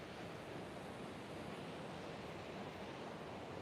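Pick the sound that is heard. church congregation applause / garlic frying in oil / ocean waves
ocean waves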